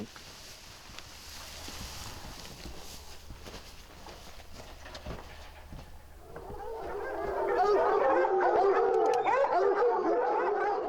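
Several dogs start barking and yelping together in an excited chorus as they are let out of a dog pen on an Arizona ranch, growing louder after a quieter stretch of outdoor background noise.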